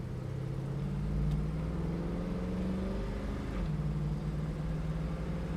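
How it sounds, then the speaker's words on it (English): A 1969 Chevrolet Camaro SS engine hums and rises in pitch as it accelerates around a corner, dips briefly, then climbs again, heard from inside the car. "Give it a little gas around the corner here."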